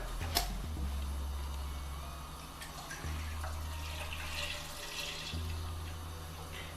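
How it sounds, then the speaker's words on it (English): One liter of blue-top milk is poured into a pot for Punjabi rice pudding. It gives a soft, continuous liquid rush over a low background hum, fairly quiet and with no voices. "we're only going to put a 1 liter of milk first"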